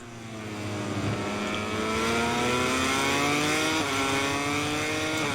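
Motorcycle engine in MotoGP 22 revving hard and rising steadily in pitch as the bike powers out of the last corner, loud and continuous, with a brief shift dip near the end; no talk.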